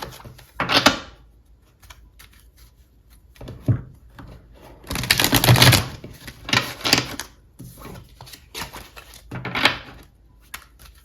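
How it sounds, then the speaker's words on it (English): Tarot cards shuffled by hand in short bursts, several riffling, slapping flurries separated by pauses, close and fairly crisp, with no voice over them. "I did give these a good shuffle, but I'm going to give them another one"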